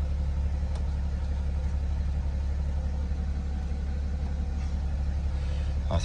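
A BMW X6 with the M57 diesel engine idles steadily up close, a constant low rumble that stays even throughout with no one talking.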